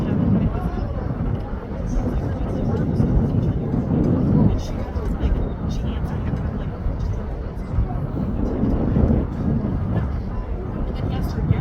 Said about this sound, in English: here we are on final approach with Qatar Airways from Doha.